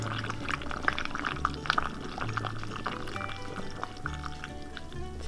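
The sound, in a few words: pouring raw apple cider vinegar into a jar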